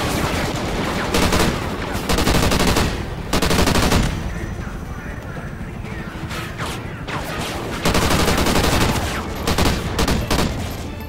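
Heavy automatic gunfire from a Call of Duty Ghosts match rattles in loud, dense bursts that surge and ease over several seconds, close and continuous with no pauses in speech.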